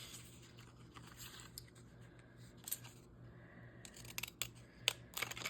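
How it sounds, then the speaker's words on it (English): Deckle-edge craft scissors snip through a small RSVP card, the quiet blade clicks and crunches scattered faintly over a steady low room hum, with a cluster of sharper cuts near the end. "The only problem with using these deckled edge scissors is it leaves a deckled edge mess."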